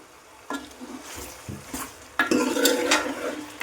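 Cut tomato lands in a pot of cooking gongura chicken curry: a few sharp metallic knocks and scrapes of a spoon, then a louder burst of stirring over a faint sizzle.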